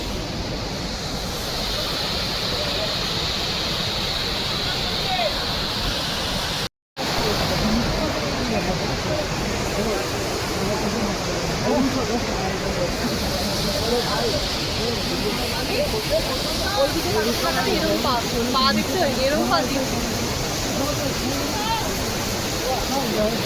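A mountain waterfall in Sikkim roars as a constant, broad rush of falling water, with people talking over it throughout.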